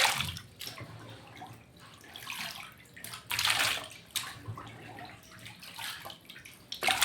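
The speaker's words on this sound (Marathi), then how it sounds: "एका पाण्याने धुतले, आता दुसऱ्या पाण्यामध्ये पण मी धुण्यासाठी टाकले" Sliced potato fingers for chips being washed by hand in a bowl of water, with steady sloshing and splashing that rises in several louder bursts; no one talks.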